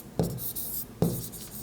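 A formula written by hand, two quick pen or pencil strokes scratching on paper close up, each starting with a small tap then trailing off, quiet with no talk.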